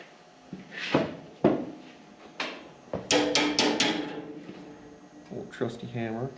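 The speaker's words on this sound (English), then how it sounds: "trusty hammer." A hammer tapping on a part of an Allis Chalmers M tractor in a workshop, several crisp metallic knocks with a quick run of rapid taps in the middle, mixed with a voice talking nearby.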